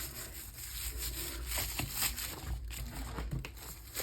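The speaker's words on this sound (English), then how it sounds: "you're going to want to rub around all your little leaf parts so you pick up all that paint" Paper being rubbed by hand over a gelli plate print with leaf stencils to lift the paint, a close, continuous soft scraping and rustling that swells and fades over a few seconds.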